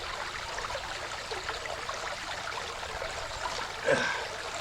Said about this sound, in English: Now I'm just gonna rinse the meat off here real quick.